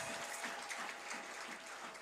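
A church congregation applauds during a worship sermon, a soft, even wash of many hands clapping that sounds somewhat distant and continues steadily for about two seconds.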